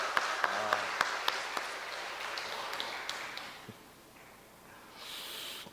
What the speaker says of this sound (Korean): 우리 하나님 앞에 우리 한번 박수 한번 돌려드리죠.